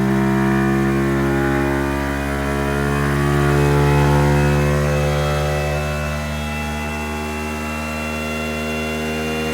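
A Honda Monkey motorcycle fitted with a new exhaust and carburettor runs at steady high revs, a loud, continuous buzzing engine drone with a slight swell in pitch midway and no talk.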